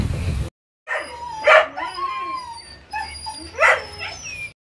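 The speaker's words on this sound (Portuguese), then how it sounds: "os meus cachorros estão impossíveis" Several dogs bark, yip and whimper in agitated bursts close by, loud and uneven with brief pauses between outbursts.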